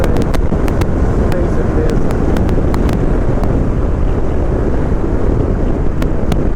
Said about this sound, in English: The wind was kind of hitting me at the top of my visor.